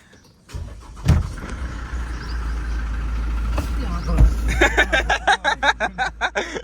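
A Hyundai Creta's engine cranks and catches, settles into a low idle, then gets blipped through a quick series of rhythmic revs close by, with voices talking over it.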